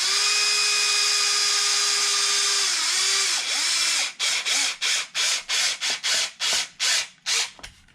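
Power drill or driver tightening the four long screws on a Traxxas X-Maxx RC truck battery strap: a steady whine for about four seconds, then a rapid series of short ratcheting bursts, close and loud, with no talking.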